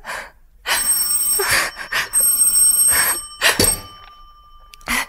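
A telephone bell rings in a Greek-language radio drama, several loud insistent bursts of ringing with short gaps between them, close and clear with no talk over it.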